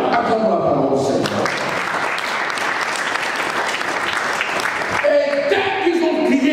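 A church congregation claps together in a sustained burst of applause lasting several seconds, loud and close, mixed with a few cheers and framed by singing or talk just before and after.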